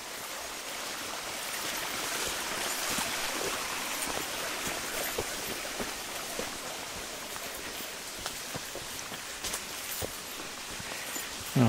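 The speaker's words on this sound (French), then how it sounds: "Alors je vous laisse entendre le bruit de l'eau qui est super." A small stream flows along a woodland trail. It makes a steady, close, broadband rush and gurgle of water that holds even throughout, with no voices.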